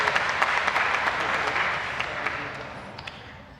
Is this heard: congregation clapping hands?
yes